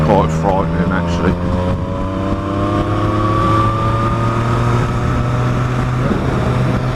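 A motorcycle in top gear with the throttle rolled on drones steadily nearby, its engine note climbing smoothly while wind rushes past and a rider talks over it.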